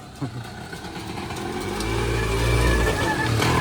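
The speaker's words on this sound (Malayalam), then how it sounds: "ലാംബർട്ട ഓട്ടോറിക്ഷ അതിൻ്റെ ഒരു സൗണ്ട് പോലെയാണ് കേൾക്കുന്നത്" A Lambretta auto-rickshaw passing on a road near Malarikkal in Kottayam, its engine drone rising and swelling as it nears, a brief knock at the start, no talk.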